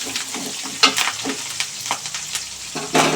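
Onions sautéing in a pan for a Tamil-style kuzhambu curry, a steady sizzle and crackle with occasional stirring scrapes, close and fairly loud with no talk.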